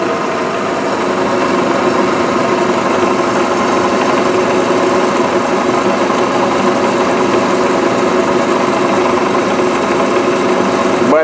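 A Bridgeport milling machine driven by a treadmill motor through a belt and pulley setup, running at steady speed with a loud, even mechanical whir and hum, close and continuous with no talking.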